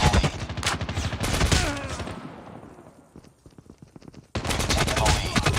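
Silenced M4 assault rifle fire in COD Mobile Team Deathmatch on the Crash map rings out in rapid bursts at close range, pauses briefly into sparse shots and then resumes loud and sustained, with game sound effects mixed in.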